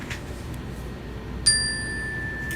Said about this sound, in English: I'm gonna ring the bell on this one